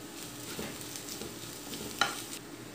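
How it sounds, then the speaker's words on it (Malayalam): Grated coconut and curry leaves being stirred in a pan for a banana peel and green gram stir-fry, with a soft steady sizzle, scraping strokes, and one sharp utensil clink near the end. "നമുക്കിതിൽ നിന്ന് ഇളക്കി കൊടുക്കാം"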